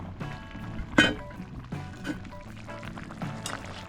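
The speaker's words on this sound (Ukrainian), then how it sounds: "Пройшло 15 хвилин, давайте перемішаємо." A spoon knocks and scrapes inside a pot of Transcarpathian pork bograch stew as it is stirred, with a few sharp clinks and soft wet churning sounds at irregular intervals, close and moderately loud.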